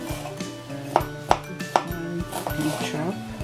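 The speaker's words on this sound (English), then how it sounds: "now you start cutting the jalapeno in very very fine" A knife chops a jalapeno on a cutting board for homemade guacamole, with three crisp, evenly spaced strikes followed by lighter, quicker taps, close and clear.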